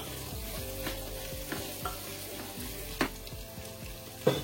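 Mint and chopped coriander fry with sautéed ginger-garlic paste for a pressure-cooker chicken biryani, giving a steady close sizzle broken by a few sharp clinks of a spoon stirring against the pot.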